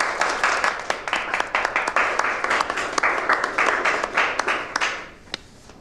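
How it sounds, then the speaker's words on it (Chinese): A small indoor group claps in welcome, a quick run of sharp, uneven hand claps that carries on for several seconds and then thins out to a few last claps. "大家鼓掌。"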